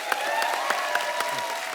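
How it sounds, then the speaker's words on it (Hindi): Steady applause from an audience, many hands clapping quickly and evenly, filling the room. "पहले तो दोनों भाइयों के लिए जोरदार तालियां।"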